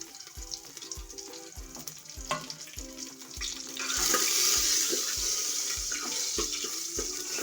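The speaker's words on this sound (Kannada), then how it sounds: "ಒಗ್ಗರಣೆ ಮಾಡ್ಕೊತಾ ಇದ್ದೀನಿ. ಸಾಸಿವೆ, ಒಣಮೆಣ್ಸಿನ್ಕಾಯಿ ಇದ್ದರೆ ಒಣಮೆಣ್ಸಿನ್ಕಾಯಿ ಹಾಕ್ಕೊಳ್ಳಿ, ಕರಿಬೇವು ಹಾಕ್ಕೊಳ್ಳಿ." Mustard seeds, dried chillies, curry leaves and garlic tempering in hot oil, a close, steady sizzle and crackle that swells louder partway through as more ingredients go into the pan, with regular stirring knocks underneath.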